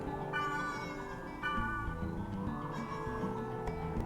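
A cat meows in a game scene, faint harmonic mews over a steady bed of music and ambient sound.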